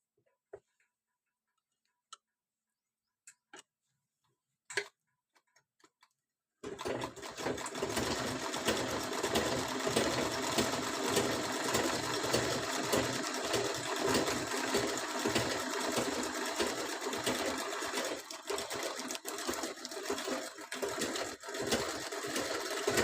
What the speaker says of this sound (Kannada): ಸೊ ಇದನ್ನು ಈ ಥರ ಉಲ್ಟಾ ಮಾಡಿಕೊಂಡು ಇದನ್ನು ಇನ್ನು ಸ್ಟಿಚ್ ಮಾಡ್ಕೋಬೇಕು